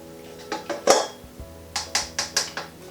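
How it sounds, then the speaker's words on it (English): Drained pasta is tipped back into a metal saucepan, and a spoon clanks against the pan in a short series of close, ringing metallic knocks, with no talking. "I'm going to put the pasta straight back into the saucepan"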